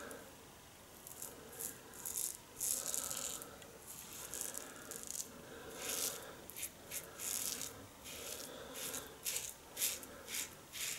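Quiet, close scraping strokes of a 1958 Gillette Blue Tip Superspeed safety razor dragging against the grain across stubble in short bursts, with brief pauses between passes and no talking.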